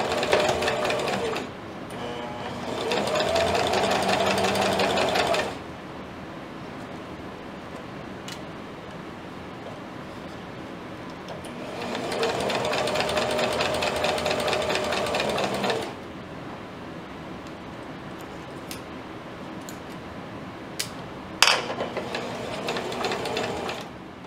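A sewing machine stitching the casing on a ruffled petti-romper runs in three loud, steady bursts of rapid mechanical whirring, about four seconds each, separated by quieter pauses with a few clicks.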